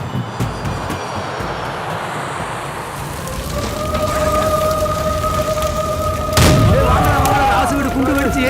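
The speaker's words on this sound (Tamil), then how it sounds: "ராசு வீடு குண்டு வெடிச்சு எரியுதுடா" A bomb blast in a house in a movie scene: a sudden heavy boom hits over a dense rumbling bed with sustained tonal whines, loud and close, followed by a lingering roar.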